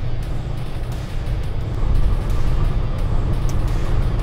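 A Kenworth W990 truck pulls onto the freeway, heard from inside the cab as a steady, close, low engine and road rumble that swells slightly midway, with no talk.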